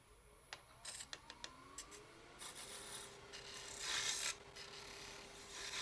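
A parting tool cuts a small wooden spindle on a lathe, starting with a few light taps and scrapes and building into a continuous rasping shave that peaks briefly, over a low motor drone.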